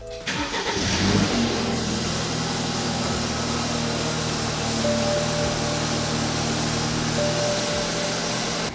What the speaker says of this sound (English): let's give it a cold start and you can see what the exhaust looks like and also how it sounds